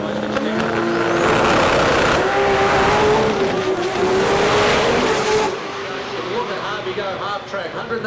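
Loud Factory Extreme drag race car engines rev and roar at the start line, pitch climbing and holding, with a brief tire screech before the noise drops to a lower idle.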